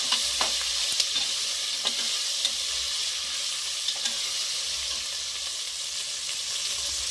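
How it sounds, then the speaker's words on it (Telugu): Green chilies and curry leaves sizzle in hot oil in a pan for a vegetable biryani, a loud steady frying hiss with a few crackles and pops near the start. "మిరపకాయలు కరివేపాకు అయితే వేసుకుంటున్నాను"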